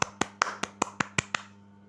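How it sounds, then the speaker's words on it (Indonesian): A classroom of students claps for a classmate in a teaching session, giving seven crisp, evenly spaced claps in a quick rhythm over a faint steady hum. "Berikan tepuk tangan"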